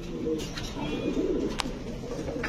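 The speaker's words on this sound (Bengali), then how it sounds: "একদম কুচকুচে কালো দর্শক, দেখেন একদম ফুল পায়ে ঝোপ্পা মোজা, অনেক সুন্দর দেখেন, খুবই সুন্দর একটা কবুতর" A jet-black German long face pigeon with fully muffed feet coos in a pigeon loft, a low, rolling burble repeated in close succession against light background noise.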